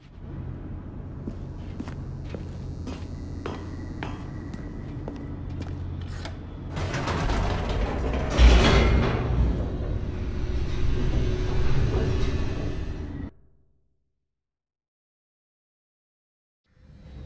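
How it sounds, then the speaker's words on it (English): An elevator in the video game The Stanley Parable descends with a steady mechanical rumble and creaking, swelling to a louder rushing roar midway before cutting off abruptly into silence. "The elevator raced downward,"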